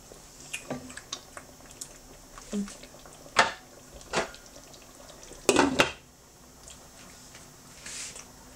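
A spoon stirs egusi pumpkin seed sauce in a cooking pot, making scattered clinks and wet scraping sounds with soft bubbling and squishing between them.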